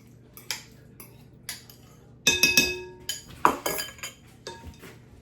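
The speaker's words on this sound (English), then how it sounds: "And you're just now stirring to incorporate." Banana cranberry bread batter is stirred in a bowl with a utensil, giving clinking scrapes against the bowl sides in irregular bursts, louder in the middle stretch and softer toward the end, with no talking.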